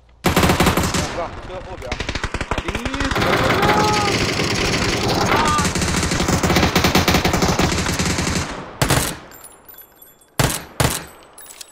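Rapid UZI submachine gun bursts in a shooter video game, dense loud automatic fire running for about eight seconds with brief pauses, then a few separate sharp shots after a lull, with voices talking over the action.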